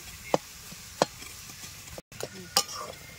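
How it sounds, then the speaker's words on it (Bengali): Jaggery and grated coconut filling being stirred in a pan for kadma pitha, with a few sharp scraping strokes of a spoon against the metal at intervals over a soft sizzle, quiet and close. "গুড়টাকে ভালো করে মিক্স করে নেব নারকেলের সঙ্গে সুন্দর করে"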